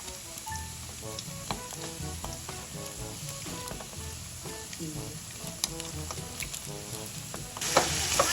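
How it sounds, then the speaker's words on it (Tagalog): Fish fries in a pan at a family get-together, a soft, continuous sizzle with light crackles and the clink of utensils, fairly quiet and steady, with a brief brighter burst of hiss near the end. "atin naman pong piniprito itong isda dahil tapos na po tayong magprito ng hot dog"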